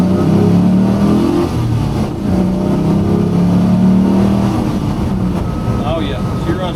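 A clean truck's engine revs and rumbles steadily as it drives, loud and close, with a low engine drone that rises and falls, and a voice talking over it.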